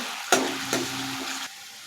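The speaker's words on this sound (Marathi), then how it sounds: "कांदा सोनेरी कलर येईपर्यंत छान परतून घ्यायचा आहे" Chopped onion tossed into hot oil in a pan for Puneri misal, giving two sharp bursts of sizzle with stirring and a steady frying hiss between them, close and fairly loud, ending abruptly.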